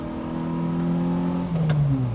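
A 1990 Toyota car with a full exhaust pulls hard in second gear, its engine note loud and steady with a rising drone, then a brief shift of pitch near the end, no talking.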